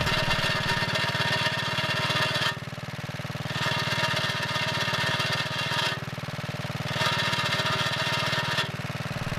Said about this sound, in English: But it still has this annoying belt flop rattling against the belt guard.